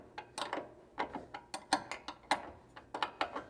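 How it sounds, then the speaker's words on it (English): A 9/16 end wrench tightens bolts against flange nuts on a Jeep JL roof rack, giving a quiet, steady series of short metallic clicks and ratcheting taps, roughly two per second, close to the microphone. "now we are going to tighten down these right here with a 9/16 end wrench, holding on to the flange nuts on the inside."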